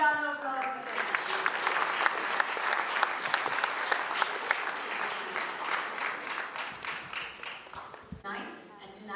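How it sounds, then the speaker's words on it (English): An audience at a health awards ceremony applauds for an honoree, a sustained wash of many hands clapping for several seconds before thinning out as a voice returns. "Big round of applause for Kailash"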